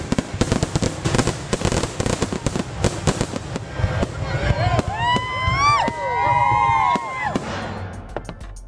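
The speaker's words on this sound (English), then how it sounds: "That boom and the colors and the explosions and the..." Fireworks crackle and bang in rapid bursts, followed by whistling rockets and booms while a crowd cheers and shouts in the background.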